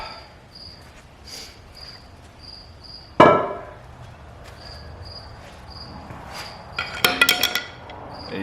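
Intake manifold coming off the engine of a 1948 Ford hot rod: one sharp metallic clank, then a brief cluster of small metal clinks near the end, over steady insect chirping outdoors.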